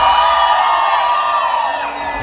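A crowd shouts and cheers loudly in an outdoor fan square during a Brazil World Cup match, a sustained roar of voices close by.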